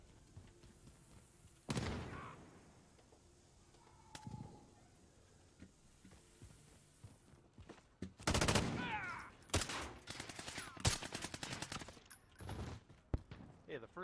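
Shotgun slug rounds fired in the Call of Duty video game: several loud, sharp blasts, some in quick succession near the end, set against quieter game ambience.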